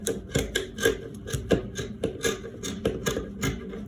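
Scissors snipping through gown fabric on a tabletop, a quick run of crisp cuts with small taps and rubs in between, close and steady with no talking.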